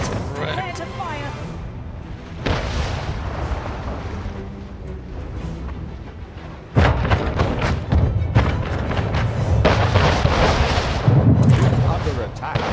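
Cannon fire in Anno 1800: deep booming thuds and rumbling blasts, one sharp loud onset partway through followed by sustained rolling bombardment, with a voice speaking over the battle noise.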